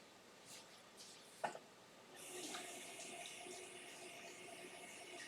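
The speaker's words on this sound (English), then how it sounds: "We're going to rinse this real quick." Tap water runs steadily over a romaine lettuce leaf in a kitchen sink, a soft, close rushing that starts after a quiet moment and a small clunk and carries on to the end.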